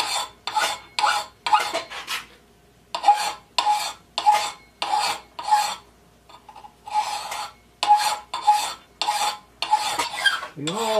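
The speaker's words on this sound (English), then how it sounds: "We want the whole edge to look like that while we're filing." A file rasps along the edge of an inexpensive axe in steady strokes, about a dozen close, loud scrapes with brief pauses between them and no talking.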